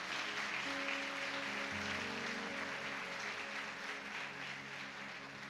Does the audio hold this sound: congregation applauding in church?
yes